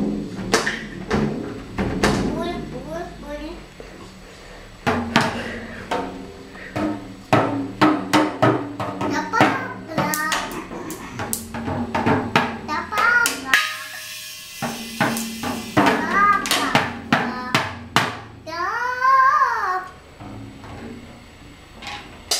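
A child bangs on pots with bare hands, uneven loud thuds and clanks in bursts, with a brief babble and squeal near the end.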